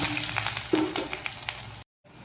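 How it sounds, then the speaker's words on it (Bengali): Onions and chillies frying in a pan, a steady sizzle with scattered clicks of stirring, cut off abruptly by a short silence near the end. "পেঁয়াজ মরিচ হালকা ভাজার পরে"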